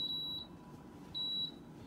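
A Power XL air fryer control panel beeps twice while being set to bake mode, each a steady high electronic tone about a third of a second long, close and clear in a quiet kitchen.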